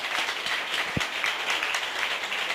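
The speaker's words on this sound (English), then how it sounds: "I'd save your applause." Audience applause at a Python talk on genetic algorithms and music, a steady broadband wash of many hands clapping, moderately loud and continuous throughout with no voices over it.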